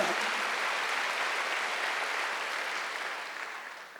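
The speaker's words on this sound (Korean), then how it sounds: "박수로 하세요" A congregation at a Korean church's Wednesday worship service breaks into applause, a dense, even roar of many hands clapping that fills the space and slowly tapers toward the end.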